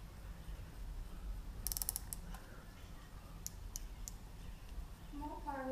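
A fitting being tightened while a USB charger is fitted to a motorcycle, a short burst of rapid ratchet clicks followed by a few scattered clicks and creaks, close and faint under a low background hum.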